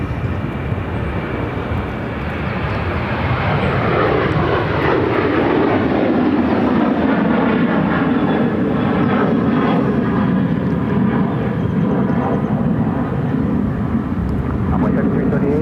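A passenger jet taking off from runway 7 left at Phoenix Sky Harbor airport, a loud sustained engine roar that swells and sweeps as it passes, heard from nearby with talk over it.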